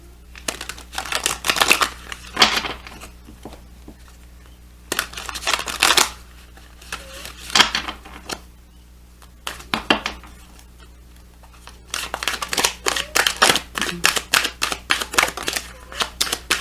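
Crystal Visions Clarification oracle cards are shuffled by hand in repeated bursts of riffling and flicking, close up, with short pauses between rounds.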